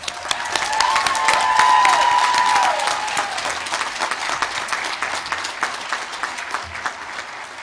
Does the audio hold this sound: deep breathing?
no